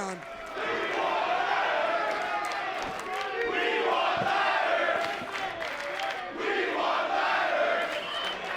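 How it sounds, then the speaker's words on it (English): A wrestling arena crowd in Toronto at a TNA Rebellion event stirs and chants, a loud, steady roar of many voices that swells and dips in waves for several seconds, with shouts rising above it. "Crowd's starting to stir."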